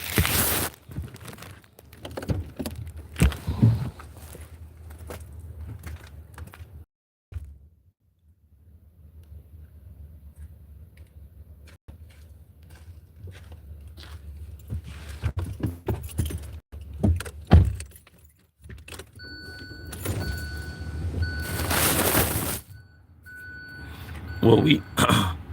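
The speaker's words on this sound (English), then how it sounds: "let me get in my car." Someone climbs into a car with keys jangling in short bursts, a door thud and rustling, then a long quieter stretch of cabin ambience and movement.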